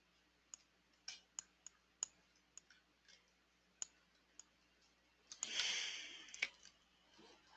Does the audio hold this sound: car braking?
no